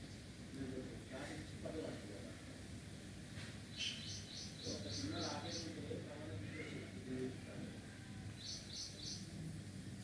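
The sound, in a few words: crows cawing in the background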